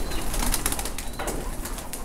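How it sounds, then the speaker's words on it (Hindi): Pigeons in a breeding loft coo and flap their wings nearby, giving a steady stream of soft rustling and fluttering with faint coos mixed in. "अच्छा अदनान भाई ये क्या कबूतर है"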